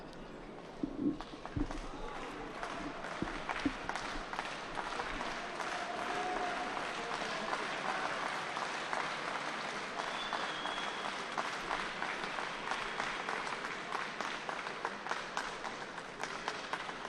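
Sustained crowd applause fills a judo arena at the Tbilisi 2016 Grand Prix, a dense steady wash of clapping lasting throughout with a few sharper claps near the start and faint commentary voices underneath.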